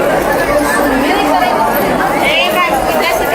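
A dense crowd chatters at a temple in Lakhisarai, Bihar, a loud, constant babble of many voices close by with no single speaker standing out.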